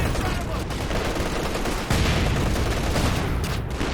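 Dense, continuous gunfire from the World War II strategy game Company of Heroes 2, with rapid bursts and booming shots layered into a loud, unbroken barrage. A faint commentator voice sits under the din.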